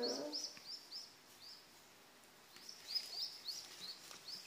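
Faint, thin high-pitched peeps repeat in quick little series, like young birds chirping softly nearby in a quiet room.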